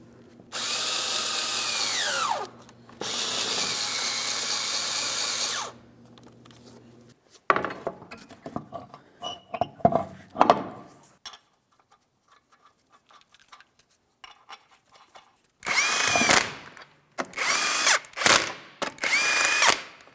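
A power tool drives the 5.5mm mounting bolts under the front corner bumper cover of a 2007-2014 Ford Edge: two long loud whirring runs, then short sputtering bursts and several quick close trigger pulls.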